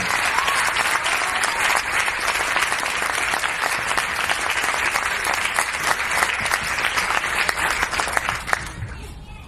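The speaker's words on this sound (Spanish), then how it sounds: "Lo recibimos con un fuerte aplauso." An audience at an event celebrating 40 years of Les Luthiers welcomes the speaker with a sustained, dense round of applause that holds strong for several seconds before thinning out at the end.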